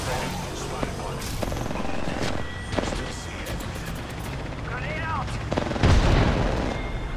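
Video game combat with scattered gunshots and booming explosions behind a steady mechanical drone, while voices talk over the action; one heavy blast lands near the end.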